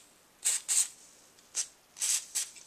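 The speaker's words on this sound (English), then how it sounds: "you could even give that a very light spray with some oil" A very light spray of oil applied while cleaning a Glock pistol: five short, soft aerosol hisses in quick, uneven bursts, close by and otherwise quiet.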